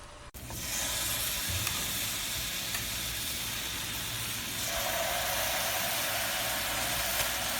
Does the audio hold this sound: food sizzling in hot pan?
yes